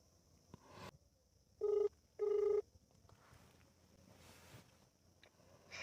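An outgoing phone call rings back as two short, even electronic ring tones close together, set in near silence with faint room noise around them.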